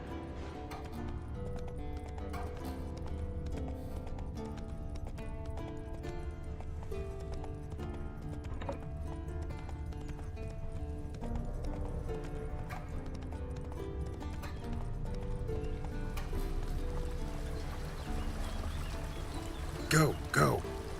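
Game hooves clip-clop at a steady gallop as the horse Roach runs in The Witcher 3 on PS5, playing under dense music and game ambience, with a player talking over the top.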